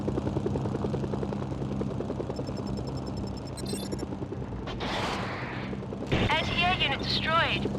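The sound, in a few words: helicopter flying in the video game Mercenaries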